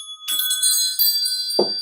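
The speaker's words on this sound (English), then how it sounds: "call in spirit with a little bit of wind chime time" A wind chime rings out clearly, a bright cluster of metallic tones struck near the start that sustain and shimmer, with a softer second brush near the end, no talking over it.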